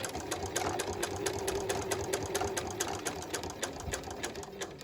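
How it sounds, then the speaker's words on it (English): Sewing machine running a line of top stitching on a garment back near a seam line, a dense, steady rapid whir and needle clatter, close and loud without pause. "I'm going to just do 2 lines of top stitching"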